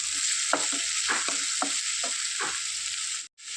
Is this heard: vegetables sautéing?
yes